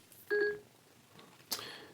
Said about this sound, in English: my phone just thought I said, "Hey Siri."